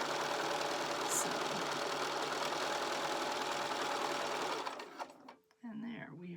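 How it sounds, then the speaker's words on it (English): A sewing machine running steadily at speed through minky fabric for an infinity scarf, a continuous loud mechanical whir that slows and stops near the end, followed by a brief back stitch. "we are just going to back stitch a little bit"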